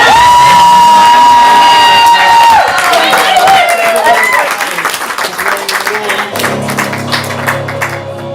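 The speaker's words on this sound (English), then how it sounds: "Everybody give one final round of applause to Robbie, the gift that keeps on giving." A comedy improv theater audience applauds and cheers loudly after the match, with whoops and dense clapping over a melodic tone and music that shifts underneath.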